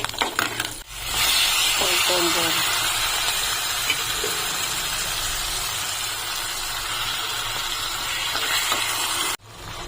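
Spices sizzling hard in hot oil as chillies, asafoetida and turmeric go in for a gongura chutney tempering; a loud, steady crackling hiss bursts in after a second and runs almost unbroken before cutting off near the end.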